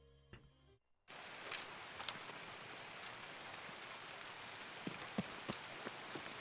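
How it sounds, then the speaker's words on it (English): Steady rain pours down in Escape from Tarkov, a dense, continuous hiss of drops on surfaces with a few sharper nearby drips, heard alone without talk. "it was raining last night, and it looks like it is not going to stop"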